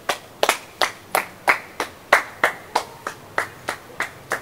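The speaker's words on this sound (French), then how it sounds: "Il va falloir applaudir." A single person claps their hands in a steady, even rhythm, about a dozen sharp, close claps in a row with short gaps between them, no talking.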